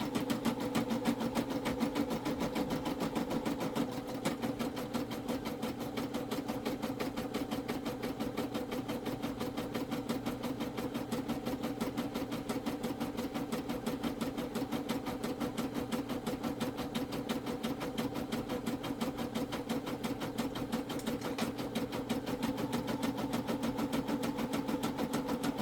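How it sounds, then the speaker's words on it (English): A Brother SE 725 embroidery machine stitches a letter outline with a steady, fast mechanical whir and rapid needle clatter. The sound runs continuously and evenly from start to finish, close and fairly loud, with no talking. "I don't know if you can hear me over the embroidery machine."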